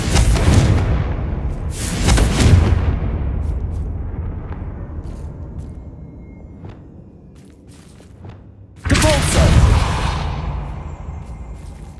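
A Confringo fire spell erupts in the Hogwarts Legacy video game as a loud booming blast with a whooshing rush that fades. A second strong blast hits near the end.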